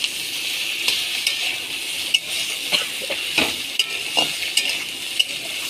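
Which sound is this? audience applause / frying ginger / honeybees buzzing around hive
frying ginger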